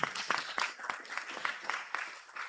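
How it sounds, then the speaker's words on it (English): Conference audience at a university event claps for presenters, a modest round of individual, evenly spaced hand claps heard fairly faintly, with no talking over it. "let's clap for our presenters this afternoon"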